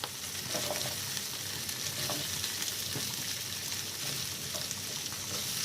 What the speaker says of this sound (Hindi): इसे थोड़ा सौते कर लेंगे